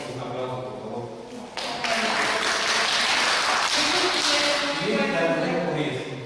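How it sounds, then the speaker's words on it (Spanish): An audience applauds at a public conference on human rights, with broad steady clapping that swells after a brief lull and carries on through the end, mixed with some faint voices. "Un aplauso, por favor"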